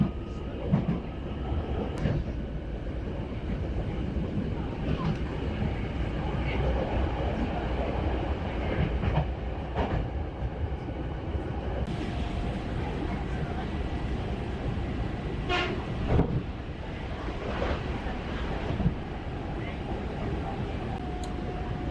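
A Hankyu Kyo-Train Garaku local train in Japan, running at up to 115 km/h, rolls along the rails with a steady, heavy rumble and occasional clacks, heard from inside as a continuous drone.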